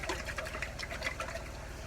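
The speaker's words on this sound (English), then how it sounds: "So I'm going to put a little water in this." Water trickles and splashes steadily into a container while a meatloaf is being prepared, a soft continuous pour heard close by with no talking.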